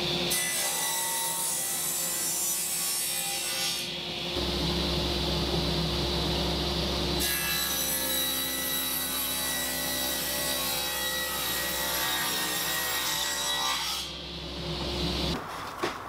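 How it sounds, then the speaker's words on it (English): A wooden seat slat for a camp chair is milled down to a 3-inch width with a power tool, giving loud continuous cutting and rasping broken by two short pauses where the motor keeps running. "now I'm going to mill these up so I get 3-inch wide slats"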